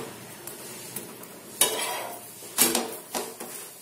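Oil is spread over a methi paratha cooking on a pan: soft sizzling under a few sharp metallic scrapes and clinks of a spoon, with short bursts of crackle after each stroke.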